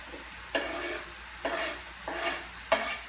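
Chopped garden onion being stirred into sizzling ground beef for sloppy joes, four distinct scraping stir strokes over a soft, steady sizzle, close and fairly quiet.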